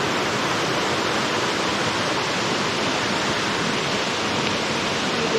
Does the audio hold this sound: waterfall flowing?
yes